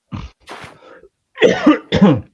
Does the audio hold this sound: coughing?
yes